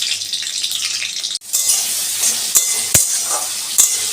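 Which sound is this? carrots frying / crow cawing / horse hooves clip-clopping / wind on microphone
carrots frying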